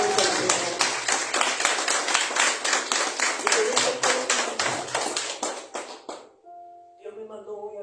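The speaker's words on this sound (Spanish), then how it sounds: "Un fuerte aplauso, Dios mío." Church congregation giving a strong round of applause, loud close rhythmic clapping that stops abruptly near the end, followed by a brief voice.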